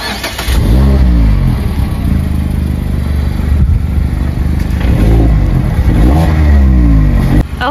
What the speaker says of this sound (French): Donc appuie sur l'embrayage et on démarre.